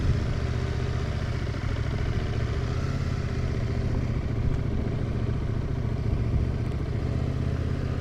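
A motorcycle engine runs steadily in first gear during slow left and right turns in a parking lot, a low continuous rumble with slight fluctuations and no speech.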